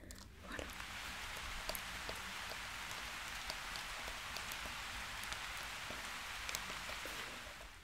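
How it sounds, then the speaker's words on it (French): Steady rain falls in a dense, even hiss with scattered sharper droplet ticks throughout, constant in level and heard alone without any voices. "Le son de la pluie."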